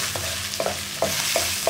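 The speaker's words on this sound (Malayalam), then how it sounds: "ജിഞ്ചർ ഗാർലിക് പേസ്റ്റ് ചേർത്ത് ഒന്ന് ഇളക്കി" Onions and ginger garlic paste sizzle steadily in a pan for chicken biryani while a spoon scrapes through them in a few regular strokes, close and clear with no talk.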